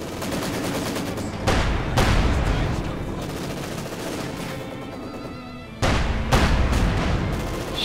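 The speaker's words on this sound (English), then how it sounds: "Stug's bombarding, so far with a little success." A StuG assault gun bombards during a Company of Heroes 2 match, with two heavy booming shots several seconds apart over continuous battlefield gunfire and rumble, loud and dense.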